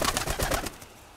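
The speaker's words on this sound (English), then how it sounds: "That's Freckles, my oldest pigeon" A pet pigeon, an older female, cooing up close in a short run of soft, pulsing low calls over about half a second, then trailing off into quiet.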